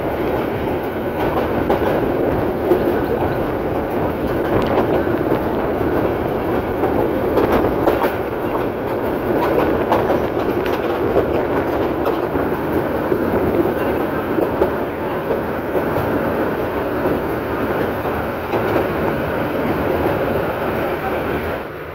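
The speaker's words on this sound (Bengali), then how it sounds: "এই ট্রেনটি তার গতি কমিয়ে দিয়েছে।" A local train running between Bhairab and Akhaura in Bangladesh slows down, its wheels giving a steady rumbling clickety-clack with rattling carriage noise heard from inside throughout.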